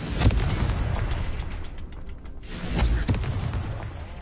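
Confringo blasting spell in Hogwarts Legacy, two loud fiery explosions about two and a half seconds apart, each a sharp burst that rolls off into a rumbling tail.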